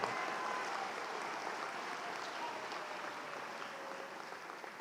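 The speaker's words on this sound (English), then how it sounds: "Let's give them a round of applause today." An audience at a college spring afternoon commencement ceremony applauds the graduates, a sustained, even wash of clapping from a large crowd that holds steady and fades slightly toward the end.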